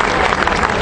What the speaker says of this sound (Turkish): Bir kere daha alkışlar mısınız sevgili öğrencimizi?